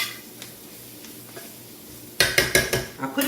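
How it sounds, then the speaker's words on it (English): A utensil scrapes and clanks against a pan while plant-based meat sauce with seasoning is stirred, a quiet stretch giving way to a run of loud, rhythmic metallic knocks and scrapes close by. "let me stir it because, you know, the seasoning will start to burn"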